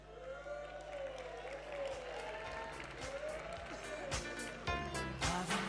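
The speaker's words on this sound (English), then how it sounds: "can you give him a round of applause too?" An audience at a district State of the District address applauds in a soft, steady patter over a low hum, with murmuring voices underneath and sharper bursts of clapping toward the end.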